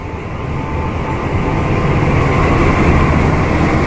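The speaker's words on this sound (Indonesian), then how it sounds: "Ini dia kereta api Gunung Jatinya ya teman-teman. Ditariknya dia pakai CC 206." Gunung Jati passenger train hauled by a CC 206 locomotive, a loud continuous rumble and roar of the engine and rolling wagons close by, steady throughout with no talk.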